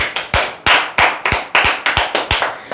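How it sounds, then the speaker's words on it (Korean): Applause from an audience at a sales training seminar for insurance telemarketers, a steady run of sharp, close hand claps coming in quick clustered bursts for about three seconds with no talking. "박수 한번 치시죠."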